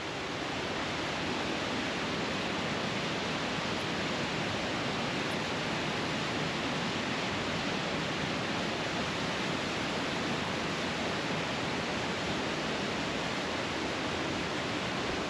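A clear stream in Norway's countryside rushes over stones, giving a steady, dense roar of flowing water that stays close and even for the whole stretch, with no voices.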